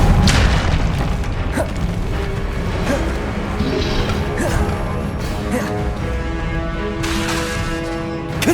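A Confringo fire spell erupts in a Hogwarts Legacy boss battle, a loud, dense run of booming blasts and crashes that roll continuously with sharp bursts near the start and toward the end, close and overwhelming.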